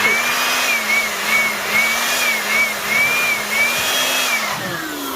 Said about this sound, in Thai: เมื่ออากาศในห้องแอร์นะครับ ถูกตัวโบเวอร์ตัวนี้ดูดและเป่าเข้าไป